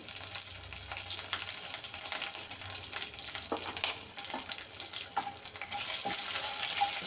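Whole cinnamon, a few cloves, cardamom and green chillies sizzle in hot oil in a pan for gongura chicken, a steady close frying crackle with small pops and spatters running throughout, no voices.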